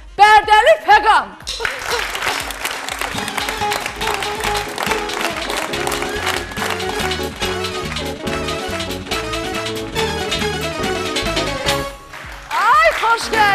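A stand-up comedy audience in Azerbaijan bursts into applause for a comedian taking the stage, with dense, continuous clapping mixed with music that swells and fades near the end.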